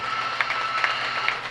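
A county fair swine show crowd applauds the barrow exhibitors: a steady wash of clapping at moderate distance, even throughout with a few sharper claps standing out, and no talk over it.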